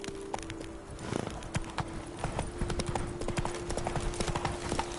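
Horse hooves clip-clop steadily in The Witcher 3 video game, a quick, even trotting rhythm heard up close, with faint background ambience.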